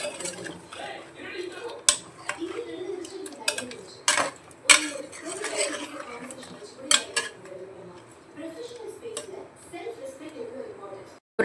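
Metal utensil scraping and clinking in a pot as spices for mutton curry are stirred, with several sharp knocks, under steady talking in Tamil throughout.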